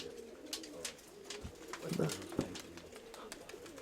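Pigeons in a loft give soft, low repeated coos close by, mixed with wing flutters and light scuffling, and a faint voice in the background.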